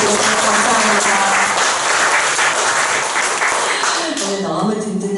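Dense, loud applause from a church congregation at a worship concert, sustained and close throughout, fading slightly toward the end.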